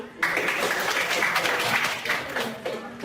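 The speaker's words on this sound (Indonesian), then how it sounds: "Tepuk tangan." Audience applause in a school classroom during a teaching practice session, with dense clapping that starts after a short quiet moment and carries on steadily to the end, and faint voices mixed in.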